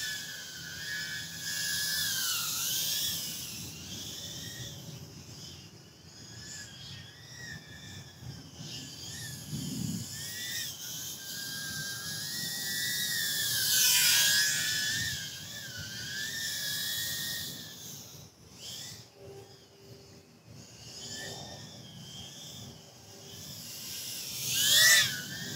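High-pitched whining buzz of the tiny propellers of an iFlight Alpha A65 tiny whoop drone, rising and falling in pitch as the throttle changes, with brief wind gusts in places.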